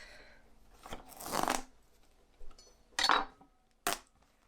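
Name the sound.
knife cutting pumpkins in half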